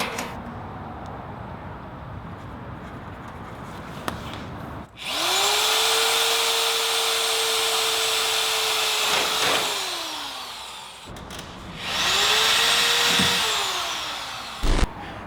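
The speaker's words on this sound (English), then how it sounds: "then drill the door so we can put the inserts" A power drill bores holes in the door of a Corvette C4. Two sustained whining runs rise in pitch and then wind down, loud and close, with clicks and quiet between them.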